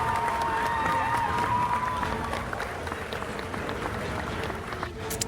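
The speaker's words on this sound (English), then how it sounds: "I'll give a round of applause for that statement." A crowd claps steadily in a sustained round of applause, with a few scattered cheers mixed in, then tapers off slightly near the end.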